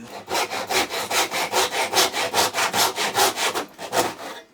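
Hand saw cutting through the wooden handle of a small camp axe, a steady run of about twenty close, rasping back-and-forth strokes, loud and near with no talk.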